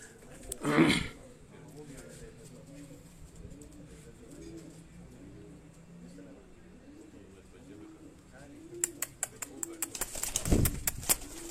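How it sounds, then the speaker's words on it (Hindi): Capped-breed pigeons coo in a soft, repeated rhythmic burble, with louder wing flutters or handling noises near the start and end and a few sharp clicks, while faint talk is heard in the background. "ये उनकी टोपी वाली ब्रीड के ये जो कबूतर हैं"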